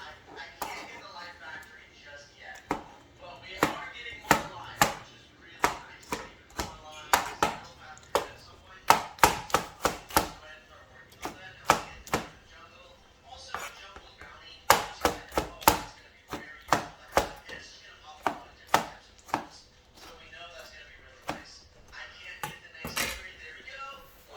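A knife chops food on a board while making lamb karahi, with sharp, close knocks landing in quick irregular bursts and brief pauses throughout.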